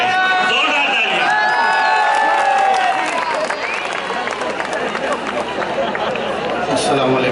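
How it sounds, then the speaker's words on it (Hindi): Audience applause and cheering at a mushaira poetry gathering during an Urdu book fair in Bhiwandi, a dense crowd roar with clapping and shouts filling the hall over lingering background voices. "जोरदार तालियां।"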